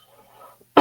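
A single loud, harsh cough bursts in at the end of a short stretch of quiet room tone and faint murmur.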